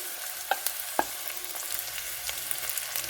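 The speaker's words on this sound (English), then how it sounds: "To that, I'll add 300 grams of very thinly sliced onions." Thinly sliced onions dropped into a frying pan with hot oil, cardamom, cinnamon and bay leaf, giving a steady sizzle with a couple of sharp clinks and stirring scrapes.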